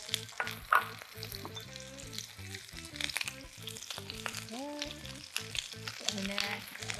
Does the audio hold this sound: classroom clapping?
no